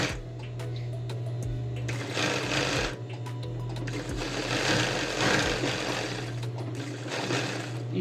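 A sewing machine runs a long continuous seam along the side of a women's shirt, its steady motor hum and rapid needle chatter close and loud, with brief pauses and restarts.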